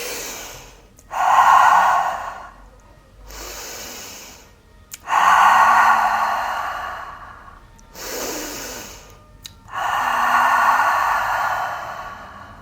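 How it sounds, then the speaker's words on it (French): Deep, forceful breaths during a core-strengthening posture exercise, three long loud exhalations with short pauses and quick inhales between them, close up and alone. "Et là, c'est des respirations de gainage."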